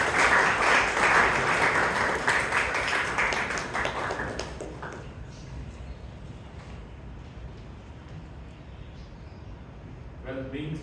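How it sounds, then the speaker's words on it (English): Applause from an audience at a Toastmasters club meeting in Bangalore, loud at first and then fading after about five seconds into quieter room noise. "Please give a huge round of applause for Annamalai."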